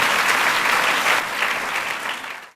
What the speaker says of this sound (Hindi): जोरदार तालियों के साथ सलाम करें